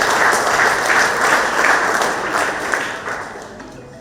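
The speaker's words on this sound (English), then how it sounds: "a big round of applause to them" A crowd applauding at an office inauguration celebration marking 25 years of a company, steady dense clapping held loud throughout, easing slightly toward the end.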